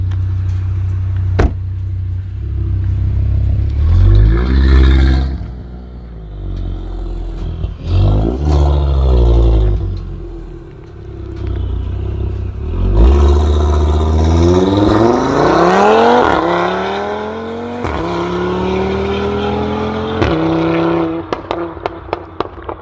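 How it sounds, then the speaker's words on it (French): A loud Audi RS3 revs hard, its engine rising and falling in sweeping bursts as the exhaust pops and crackles sharply between throttle blips, close up throughout. "Oh là là, mais comment ça pétarade!"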